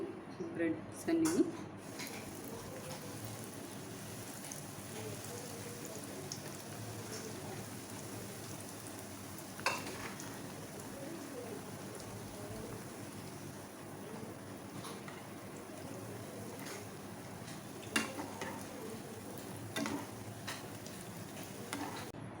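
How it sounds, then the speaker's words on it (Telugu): Bread slices frying in oil for a homemade sweets recipe, a steady low crackling sizzle with occasional pops running through the whole stretch. "సో ఇలాగే మొత్తం అన్నీ ఫ్రై చేసుకుందామండి మనం బ్రెడ్స్ అన్నీ."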